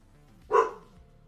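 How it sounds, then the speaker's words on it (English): A single dog bark rings out clearly, one short sharp burst standing alone against a quiet background. "Dog."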